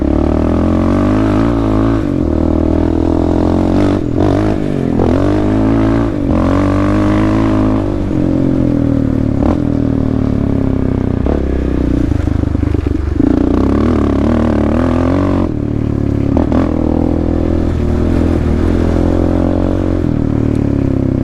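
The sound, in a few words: Arctic Cat DVX 400 ATV engine while riding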